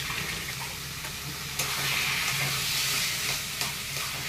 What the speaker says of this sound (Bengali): দিয়ে এবার এটাকে নাড়বো।